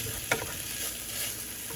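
Fresh garlic sizzling softly in a pan for ratatouille, a faint, steady frying hiss with one small stir clink, no talk.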